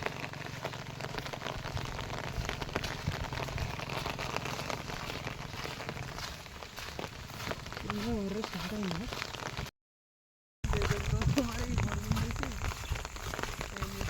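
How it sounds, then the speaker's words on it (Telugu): Rain falls steadily in a village during the hot season, a dense hiss of drops striking surfaces that continues under intermittent talking and cuts out briefly before resuming. "వర్షం అయితే మామూలుగా పడట్లేదు"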